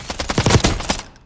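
An AK-74 rifle in Warzone fires a rapid automatic burst of roughly ten sharp, loud shots in about one second, followed by a brief fading tail.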